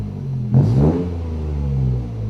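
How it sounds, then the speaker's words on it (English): A Toyota GR Yaris engine fitted with a straight-through exhaust gives one short, sharp throttle blip, then settles into a low, burbling idle rumble, heard close and alone. "that's got a distinct bobble about it, hasn't it? A blip."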